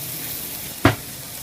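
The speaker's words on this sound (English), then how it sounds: "Here's our onion and garlic sizzling away." Onion and garlic frying in a pan, a steady soft sizzle throughout with one brief louder burst of crackle near the end, close and alone with no talk.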